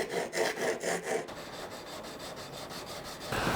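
A steel chisel is rubbed back and forth on a sharpening stone in quick, rhythmic rasping strokes, close and clear, several short strokes followed by a longer steady grind.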